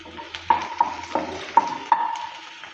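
Okra sizzles softly in a pan while a spatula stirs it, giving five or six distinct scraping strokes at a steady pace.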